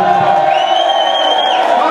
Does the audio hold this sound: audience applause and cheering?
yes